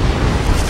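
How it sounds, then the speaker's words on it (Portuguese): A deep, roaring rumble bursts from an erupting volcano on a toy-movie island, loud and sustained with no talk over it. "Uma violenta explosão rasgou os céus."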